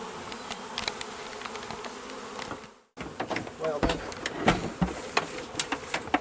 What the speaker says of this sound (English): I'm thinking that's a lot of bees.